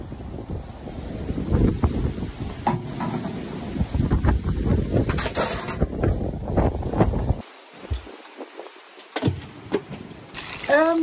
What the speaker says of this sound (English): a couple clips I took of a particularly windy day here this week